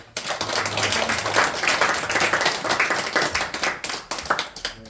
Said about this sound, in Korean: 우리 다 같이 우리 격려의 박수를